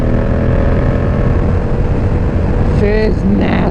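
Yamaha MT-07 motorcycle engine running hard at high revs, a loud continuous buzzing drone heard up close over steady wind rush, with a person speaking briefly near the end.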